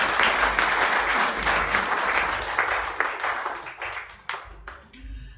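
Loud, dense applause from a seminar audience, continuous hand clapping that carries on for several seconds before thinning out toward the end.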